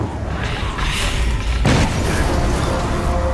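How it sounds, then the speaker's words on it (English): In the video game Middle-earth: Shadow of Mordor, a deep explosive boom bursts out partway through and rumbles on loudly over a steady background of noise. "Enjoy the explosions"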